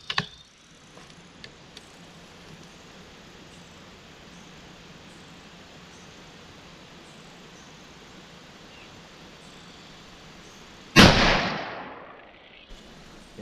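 A single sharp, loud rifle shot from a Savage Axis with a Boyds Spike Camp stock cracks out at the range near the end, followed by a short decaying echo after a long stretch of quiet background with faint clicks.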